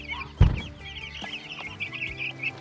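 Meat chickens in a chicken tractor on pasture, clucking and chirping softly and continuously nearby, with a thump near the start and some light rustling; no talking.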